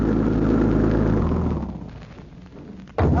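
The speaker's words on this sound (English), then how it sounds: "Doesn't that sound like their car?" A car from the late 1930s drives up, its engine a loud, heavy rumble close by that fades away over a couple of seconds before a sudden burst of noise returns at the end.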